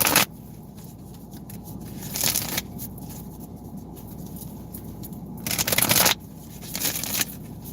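Tarot cards riffled and shuffled by hand in several separate bursts, crisp papery flutters near the listener with quiet pauses between them.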